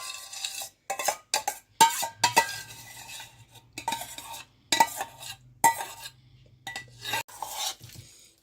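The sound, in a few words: mixing rice into curd with the back of a spoon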